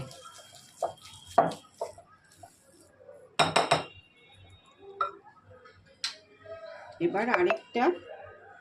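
Egg is mixed into wheat flour cake batter in a bowl, with intermittent clinks and scrapes of a utensil against the dish, separated by quiet pauses and a louder burst of rapid stirring near the end.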